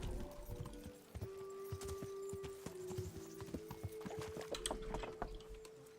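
Rapid clip-clop of horse hooves trotting at a steady rhythm in Kingdom Come: Deliverance, close and fairly loud, with a brief whinny and a faint sustained tone.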